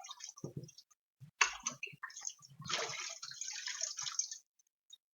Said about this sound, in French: Cette fois, on va bien juste les rincer